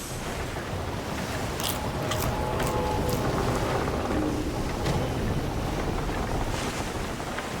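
Heavy ocean waves and wind roar steadily around a sailing ship in the video game Skull and Bones, a dense, continuous wash of water with occasional sharper splashes.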